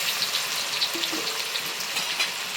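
Crushed garlic hits a hot pan alongside deep-fried chilies, giving a steady, close crackling sizzle with scattered pops throughout.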